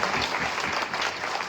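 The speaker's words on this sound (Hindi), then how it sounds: "जोरदार ताली से अभिनंदन करेंगे साहब का।" An audience at a three-day saints' gathering at a Kabir ashram bursts into loud, dense applause, continuous clapping for a second and a half with no talk.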